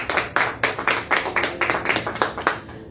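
A church congregation claps together in praise, a close, steady run of sharp hand claps roughly twice per second with no talking.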